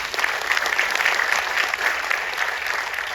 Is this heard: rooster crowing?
no